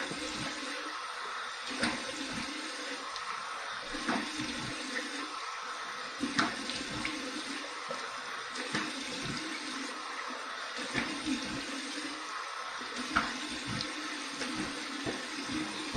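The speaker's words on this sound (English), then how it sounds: "Here's my cold water rinse." Cold water runs steadily from a tap during a shaving rinse, a continuous close splashing stream with no speech.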